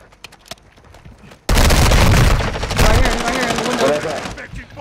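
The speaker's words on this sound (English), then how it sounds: "I'm gonna shoot that." Rapid video-game gunfire bursts out loud and dense after a quiet opening, machine-gun style shots with booming hits continuing for several seconds.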